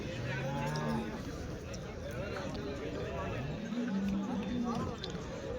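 Cows mooing at the busy weekly Sunday cattle market in Chintamani, several drawn-out low calls amid constant crowd chatter and background bustle.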